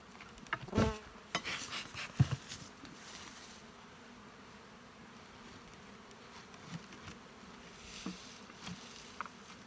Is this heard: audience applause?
no